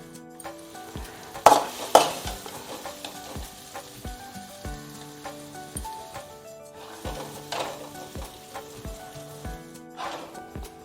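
Gongura leaves fry in oil in a pan with a soft sizzle, while a spoon stirs and scrapes in scattered sharp clinks, two louder knocks near the start.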